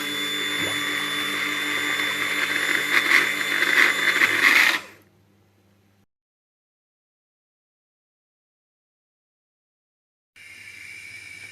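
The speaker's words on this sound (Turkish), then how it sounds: "mikserden geçireceğiz" A hand blender whirs loudly for about five seconds pureeing tomato soup, then winds down into silence before the motor briefly starts up again.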